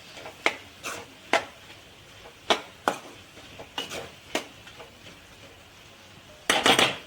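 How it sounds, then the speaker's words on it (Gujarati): Turmeric, coriander-cumin powder, garam masala and salt being stirred into sabudana khichdi in a pan, with a series of sharp spoon-on-pan clinks and scrapes at an irregular rhythm over a soft sizzle, close by and without talk. "હવે સરખી રીતે મિક્સ કરી દઈશું"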